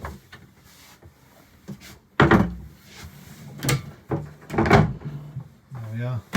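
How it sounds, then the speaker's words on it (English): Double cabin doors aboard a Holman and Pye motor sailer swing shut with several close wooden knocks and clunks, accompanied by soft rubbing and a faint voice nearby. "Close these double doors up."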